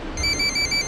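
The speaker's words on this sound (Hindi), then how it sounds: "मानी का फोन आ रहा है" Incoming-call ringtone on a mobile phone: a short burst of bright repeated electronic beeps at one pitch, fairly close, over a busy low background murmur.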